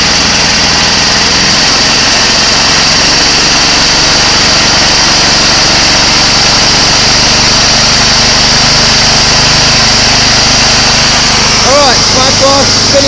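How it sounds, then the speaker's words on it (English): Fisher and Paykel Smart Drive washing machine motor under test, spinning at about 500 RPM with a steady, loud high-pitched whine and hum that holds evenly throughout, with no talk over it. "Alright, smart drive spinning at 500 RPM"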